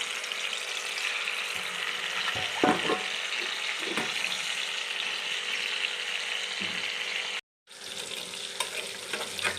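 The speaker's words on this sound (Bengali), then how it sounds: "তো যেটা আমার গরম হয়ে গেছে এবার মাছগুলো আমি দিয়ে দিচ্ছি ভাজার জন্য" Pieces of katla fish sizzle steadily in hot mustard oil, a loud continuous fry with a few soft knocks of the pan, broken by a brief gap near the end.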